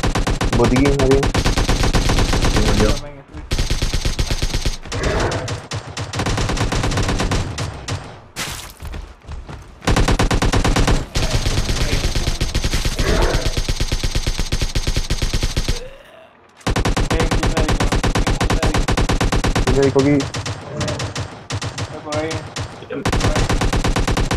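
Rapid, dense gunfire bursts in sustained streams with short breaks, loud and continuous like automatic weapons in a game, with voices faintly underneath.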